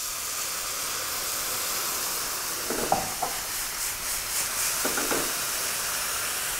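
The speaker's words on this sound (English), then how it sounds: "I'm gonna add a little white wine to deglaze" White wine hits a hot pan of browned butternut squash and prosciutto, releasing a broad steady hiss and sizzle, with a couple of brief scraping stirs partway through.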